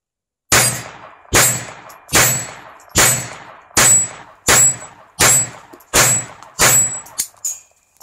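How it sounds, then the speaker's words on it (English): Nine sharp, loud shots ring out at an even pace from a Phoenix Arms HP22A handgun with a 3-inch barrel firing .22 LR, each crack trailing into a short echo. "So here's with the 3-inch barrel, 22 long rifle."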